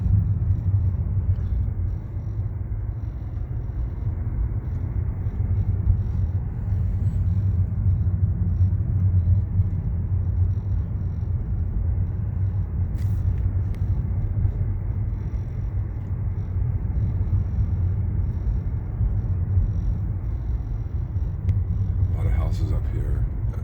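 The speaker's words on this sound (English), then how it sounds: "Put my phone down while these cars come by." Cars roll past on a hilly residential neighborhood street, a steady low rumble of traffic that swells and fades over a long stretch, with someone talking over it.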